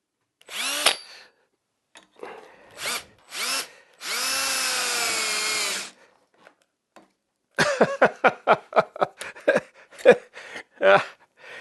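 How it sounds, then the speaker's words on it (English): A cordless drill whines in short bursts, then runs steadily for about two seconds, followed by rapid clicking and rattling pulses nearby, while building a wooden drink tote. "I love this drill, but I'm really going to have to get another battery for it"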